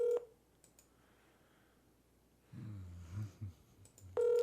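Phone keypad tones beep at the start and end, separated by faint clicks and a low, muffled patch of sound in the middle.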